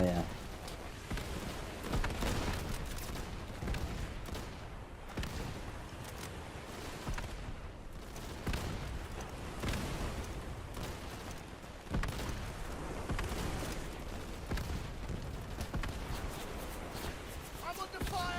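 Gunfire in the World War II shooter Easy Red 2, dense and continuous bursts of crackling shots and distant booms, with a voice talking over the din.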